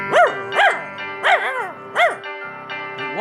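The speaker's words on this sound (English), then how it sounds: "So he barked at his reflection and the bone fell from his mouth into the river" A dog in a fable barks at its reflection beside a river: four clear, rising-and-falling barks in an even rhythm, close and fairly loud over a soft sustained musical drone.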